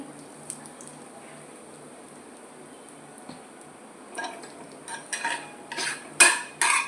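Cumin seeds, a dried red chilli and hing being stirred in a pan for a vegetarian chana kofta curry, quiet at first, then a spoon scraping and clinking against the metal in short bursts that grow louder toward the end.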